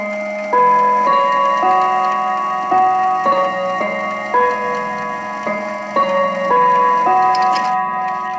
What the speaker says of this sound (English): So what you've just heard is the 45-minute Westminster chime.